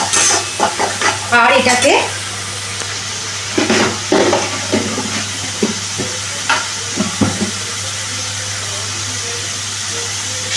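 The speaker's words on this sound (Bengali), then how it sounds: "আবার এটাকে আমি ভালো করে কষিয়ে নিচ্ছি।" Egg chilli masala with cumin and coriander powder sautés in a pan, sizzling and hissing as it is stirred with repeated scraping strokes, and a voice speaks briefly near the start.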